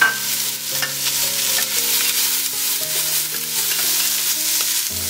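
Onions dumped into hot oil and sautéing for cinnamon fried rice, a steady close sizzle and stirring heard under melodic background music throughout.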